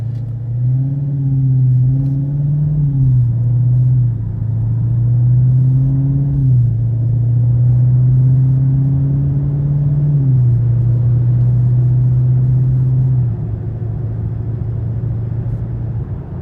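A 2016 Dodge Charger SRT 392 pulls hard through its eight-speed gears, the engine drone rising steadily then dropping at each shift, repeated several times, loud and close inside the car with no talk.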